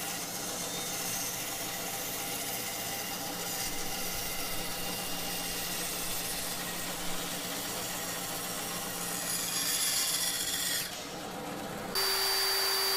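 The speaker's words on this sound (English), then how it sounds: "Then, I cut round the bowl using my bandsaw." A bandsaw cuts around a wooden bowl blank, a loud continuous motor hum with rough cutting noise throughout, and a brief dip before the machine continues near the end.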